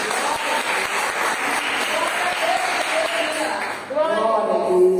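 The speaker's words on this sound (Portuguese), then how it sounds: "as palmas são para o Senhor" Applause from a women's church gathering, a full round of clapping under a continuing voice before a speaker's talk takes over near the end.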